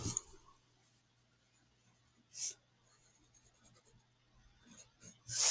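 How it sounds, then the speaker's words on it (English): Pencil sketch lines erased on paper: close, soft rubbing bursts, one clear burst mid-clip and another at the end, with faint scratching between them over a steady low hum. "I'm going to erase some of these sketching lines."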